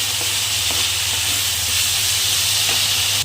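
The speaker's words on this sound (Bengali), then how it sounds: "আলুটাকে আমি হালকা করে ফ্রাই করে নেবো" Potatoes fry lightly in oil in a pan, giving a steady, loud, close sizzling hiss that holds evenly throughout and drops slightly at the very end.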